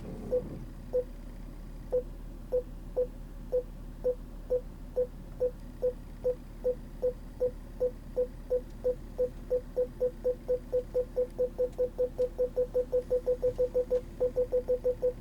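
Quiet electronic warning beeps from a retrofitted Volvo park assist system in reverse, steady at first and then quickening into a rapid stream of short tones over a low, steady hum.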